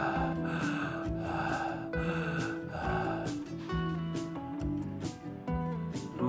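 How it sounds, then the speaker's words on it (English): Heavy breathing added as a sound effect over a Disney World resort scene, with loud rhythmic gasping inhales and exhales repeating every second or so, layered over music with clear tonal chords. "the heavy breathing was an added effect"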